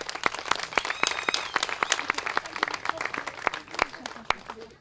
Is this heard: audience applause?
yes